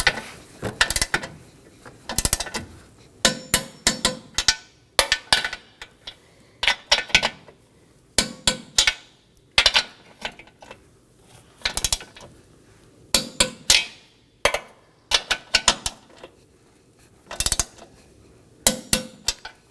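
Torquing 13mm nuts on a 2015-2023 Nissan Maxima front bumper with a torque wrench: repeated bursts of sharp metallic ratchet clicks in quick clusters, separated by short pauses, close and fairly clear.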